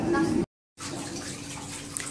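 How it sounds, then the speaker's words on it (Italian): Water pours down from the ceiling in a hotel spa on the 24th floor, a steady broadband rush that breaks off briefly, then resumes continuously, loud and close. "vedete tanto l'acqua che viene giù dal soffitto"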